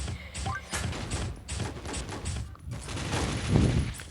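Rapid gunfire from the video game Pixel Gun 3D rattles continuously in dense bursts, loud and close, with mechanical clatter mixed in and no clear pauses.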